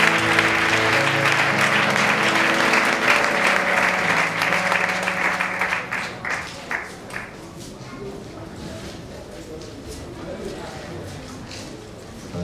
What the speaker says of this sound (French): On acclame pour Maman